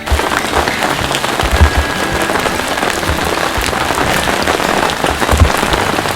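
Heavy rain pours down steadily in remote Africa, a dense continuous patter on surfaces with occasional louder drops, no voices.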